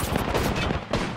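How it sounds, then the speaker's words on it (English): Bursts of gunfire in a battle royale game, a rapid string of close, loud shots crackling over a dense background of game noise. "These shots are way too fucking close"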